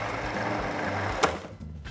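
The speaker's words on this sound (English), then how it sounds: "straight into the food processor. And you're going to whiz this for about 5 seconds." A food processor whizzes fresh basil and parsley in a steady motor whir, close and fairly loud, with a brief clatter near the end before it cuts off.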